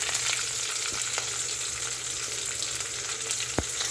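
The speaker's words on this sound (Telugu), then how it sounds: "1 by 1 ఇలా వేసి బాగా వేయించాలండి" Tempering spices fry in hot oil for a tomato chutney, giving a steady, close sizzle with a few soft stirring knocks against the pan.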